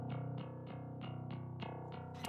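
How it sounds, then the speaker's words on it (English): Layered electric bass top tone with a string-noise character, heavily processed with distortion-like grit, played as steady repeated notes with regular attacks about every third of a second, loud and alone. "So this is just a string noise, or the string tone."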